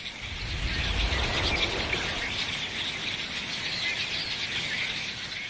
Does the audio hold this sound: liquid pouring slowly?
no